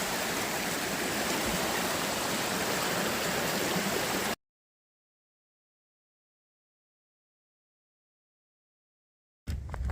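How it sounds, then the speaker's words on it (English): Clear mountain stream flowing beside the Appalachian Trail, a loud steady rushing wash of water for about four seconds, then abrupt silence before a brief burst at the end. "A couple of beautiful streams here. How clear the water is."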